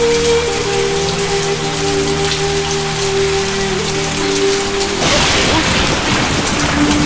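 Heavy rain pours steadily onto a road, a dense loud hiss throughout with a low rumble under it, growing stronger and harsher in the last couple of seconds.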